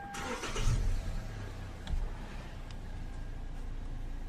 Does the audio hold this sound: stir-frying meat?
no